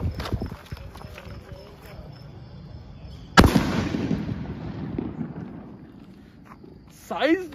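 A Kattappa sutli bomb firecracker explodes during Diwali cracker testing in one sharp, loud blast, followed by a long rumbling echo that slowly fades, with people talking before and after.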